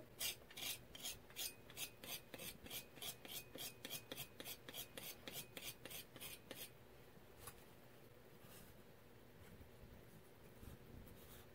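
Chalk pastel being scraped off with a blade for cold wax painting, a rapid series of close, dry rasping strokes in a steady rhythm that stops partway, leaving faint handling noise.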